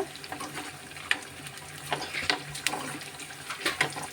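Frying in a pan with salt and tamarind sour juice, a soft continuous sizzle with scattered crackles and stirring clatter at moderate loudness, no voices.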